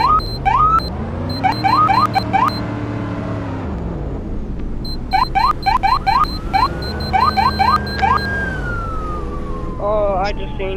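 A vehicle in the Roblox video game drives fast, its engine rising and falling in pitch as it revs, while repeated electronic siren yelps and a long rising wail sound over it.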